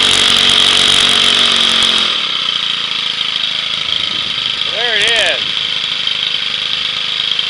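Homemade outboard built from a 1/2 HP 4-cycle engine, a loud buzzing whine that drops to a lower idle partway through, with someone speaking briefly over it.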